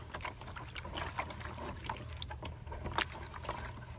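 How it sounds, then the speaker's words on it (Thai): Water mixed with red lime is poured and stirred, giving close, steady trickling and splashing with small liquid clinks over a faint low hum, and no one speaking. "ผสมน้ำปูนแดงให้เขานิดหน่อยนะคะ"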